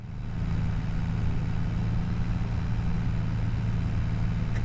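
A farm tractor in Farming Simulator 25 drives slowly under heavy load, its engine a steady low drone that runs loud and continuous with no other sounds.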